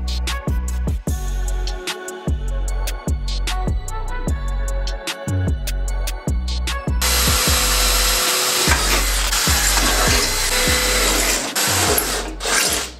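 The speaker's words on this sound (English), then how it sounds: "We are gonna go ahead and cut out some aluminum panels for the sides." Aluminum side panels for a budget 4x4 buggy are cut with a power tool, giving a steady loud buzzing drone with rapid regular pulses that turns harsher and noisier halfway through.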